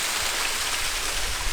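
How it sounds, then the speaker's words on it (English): Loud, steady broadband rush of a massive waterfall in Hawaii, heard up close as a continuous roar of falling water with no voices. "this waterfall, woo! This thing is massive"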